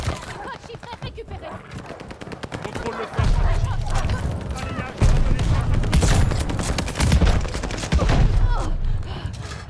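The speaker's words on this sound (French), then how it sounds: "le fusil à pompe de combat, c'est le vrai deal" Combat shotgun fire in Call of Duty: Vanguard on the Das Haus map lands as several heavy, booming blasts spaced a couple of seconds apart amid a busy din of battle noise, with a voice talking underneath.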